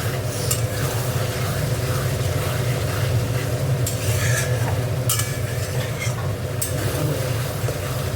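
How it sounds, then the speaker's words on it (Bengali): Aar fish sautéing in a pan for a Bengali curry, a steady close sizzle with repeated scraping strokes of a spatula against the metal, no talking. "দেখো মাছটা দিয়ে একটু কষে নিচ্ছি"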